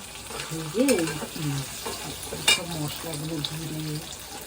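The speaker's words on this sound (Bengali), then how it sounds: "লাল লাল করে ভাজবো" Chhana kofta frying until reddish gives a steady, moderate sizzle with a few stirring scrapes, while a voice speaks briefly over it.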